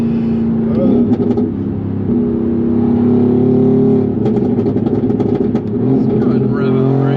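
Mercedes-AMG GT R Pro engine revs on a country road, a loud close snarl that holds steady, then climbs sharply with crackling pops before settling back.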